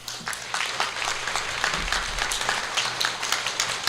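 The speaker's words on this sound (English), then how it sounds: "Can we have a round of applause?" Audience at a 2022 municipal all-candidates meeting in Elliot Lake applauding the mayoral candidates, a steady wash of many hands clapping in a mid-sized hall, fairly loud and continuous throughout.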